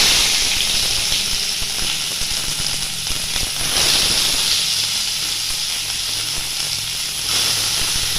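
Onions hit hot oil in a wok and sizzle, a loud, steady hiss that swells slightly in places and carries on alone without speech.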